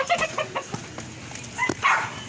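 Backyard chickens cluck in a quick series of short, close calls, with a louder squawking burst near the end, heard alone.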